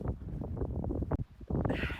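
Gusty wind buffets the microphone on a steep, dusty stone hiking trail, a loud, steady low rumble that swells and briefly drops before surging back.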